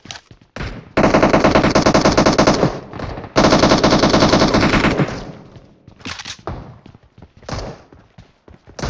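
Loud sustained automatic gunfire fills a PUBG Mobile match, with two long rapid bursts and then scattered shorter shots, close and dominant with no talk over it.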